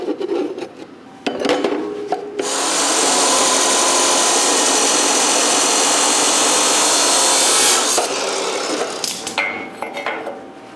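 An abrasive power saw cuts 2x2 square steel tubing at a 45-degree angle for a triangular gusset on a raft trailer build, giving a loud sustained grinding roar for several seconds, framed by short clanks and handling knocks before and after.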